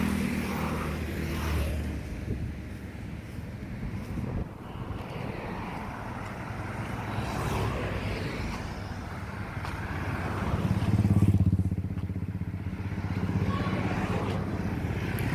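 Kolkata street traffic with yellow taxis and a minibus: engines rumble and swell past at close range over a continuous roar, with wind buffeting the microphone, and one vehicle grows louder toward the end.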